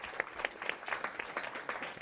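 Audience applause at an awards gala, a steady wash of many hands clapping at moderate volume with a few sharper individual claps standing out, continuous throughout.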